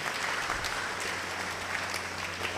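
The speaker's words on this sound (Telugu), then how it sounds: "గట్టిగా చప్పట్లు కొట్టండి, గట్టిగా" A church congregation claps loudly and steadily, dense continuous applause filling the room without a break.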